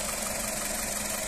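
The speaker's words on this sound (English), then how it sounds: "Engine sound nice and smooth" A VW Polo 1.4 petrol automatic hatchback idles with a steady, smooth hum and faint even vibration, close and constant throughout, with nobody talking.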